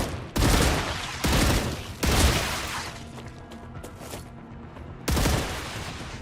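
Gunfire in the video game Star Rupture, four loud, close bursts of rapid shots, each dying away into quieter mechanical noise before the next burst starts.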